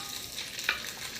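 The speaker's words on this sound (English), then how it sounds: "Bit of oil, and we're going to fry up our chicken." Chicken chunks frying in a pan of oil, a steady faint sizzle with a single brief stir or scrape partway through, no voices.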